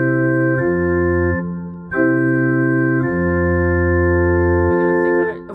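An organ plays a slow chord progression, full sustained chords shifting every second or so, loud and steady with no voices.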